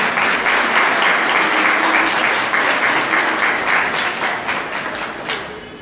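Sustained applause from a large crowd at a citizens' forum with congressional candidates in San Francisco del Rincón, loud and steady throughout, thinning slightly toward the end.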